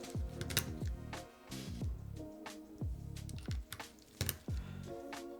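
Typing on a Solar 80 mechanical keyboard built top-mount with an aluminum plate and deep switches: a close, irregular run of sharp clacks and keystroke bursts with short pauses, and no voices.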